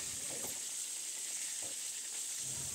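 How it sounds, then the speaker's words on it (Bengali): Chicken pieces fry in hot oil, a steady crackling sizzle throughout with a few soft stirring and turning touches. "চিকেনগুলো উল্টিয়ে পাল্টিয়ে সুন্দরভাবে ভেজে নিব যাতে ভিতরে কাঁচা না থাকে"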